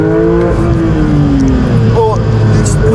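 A Porsche 911 GT3 (992) engine revved loud and close, its pitch swelling then easing back before a quick sharp blip near the end.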